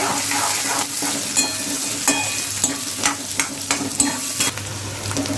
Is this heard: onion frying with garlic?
yes